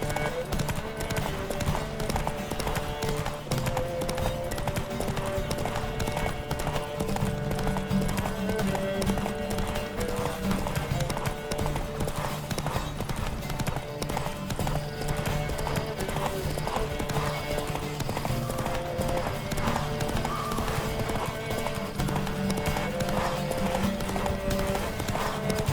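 Galloping horse hooves in The Witcher 3 during a horse race, a fast, continuous clip-clop running throughout alongside game music and ambience, loud and near.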